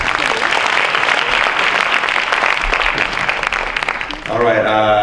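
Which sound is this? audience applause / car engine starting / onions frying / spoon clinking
audience applause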